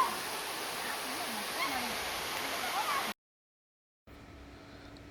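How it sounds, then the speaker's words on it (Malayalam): Madatharuvi waterfall pouring through forest, a steady, soft hiss of flowing water that cuts out abruptly midway, then returns fainter with a low hum. "മടത്തരി വെള്ളച്ചാട്ടം കണ്ടോ എങ്ങനെയുണ്ട്"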